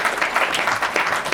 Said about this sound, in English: I think that all of you should give yourself a round of applause.